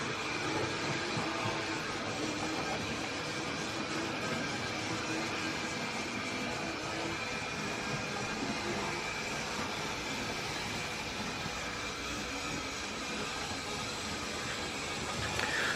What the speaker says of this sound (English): Now we're going to let this train go around one more time